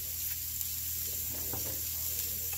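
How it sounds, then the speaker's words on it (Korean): Onions frying in butter in a pan, a steady soft sizzle with faint stirring scrapes midway, quiet and close with no talk. "뻐러 한 스푼 정도를 넣고 볶아줘요"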